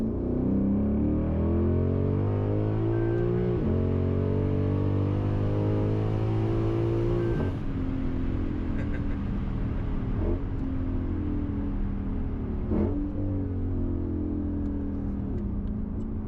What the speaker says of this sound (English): Do a little second gear roller. We'll do it right at 3 grand so you can hear that crossover.